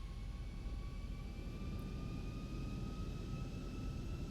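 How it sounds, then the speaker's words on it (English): Boeing 737 jet engines in the X-Plane 11 flight simulator spool up as throttles advance for takeoff, a steady loud roar with whining tones held throughout, no talk. "we want to advance the throttles up to 50"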